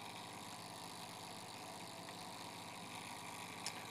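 A Lauda MT recirculating head on a 6-liter water bath gives a steady, continuous mechanical hum with a light vibrating rattle, close and even throughout, with one brief click near the end.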